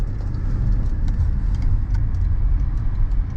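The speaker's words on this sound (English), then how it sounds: "Nice little test drive, BZ4X Limited." A 2023 Toyota bZ4X Limited electric car on a test drive, heard from inside as a steady, loud low road rumble and tire noise with faint light rattles, continuous throughout without speech.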